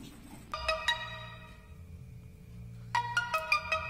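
Mito Z1 Plus smartphone plays a ringtone, two short bursts of bright chiming notes separated by a quiet gap, with faint low background noise.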